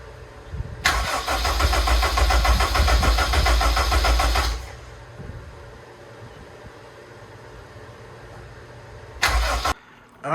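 A car engine cranks for about four seconds with a loud, fast rhythmic churn, then cuts to a quieter hum before a brief second burst of cranking near the end; no talking.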